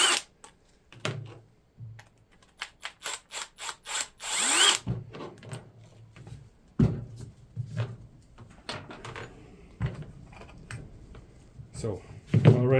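A power tool backs out the two screws that hold the brush pack in the rear housing of a starter motor under repair. Short whirring bursts come between close-up clicks and handling noises, with a person talking at times.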